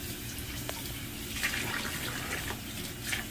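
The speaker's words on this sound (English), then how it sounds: "I drench them in hot water." Hot water splashes and trickles over white cloths in a bowl used for bacon. A quiet, steady wash of liquid is broken by a few brighter splashes.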